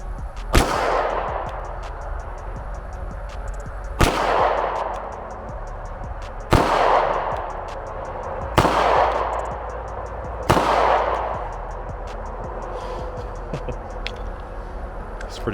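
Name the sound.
pistol firing 5 rounds at 15 yards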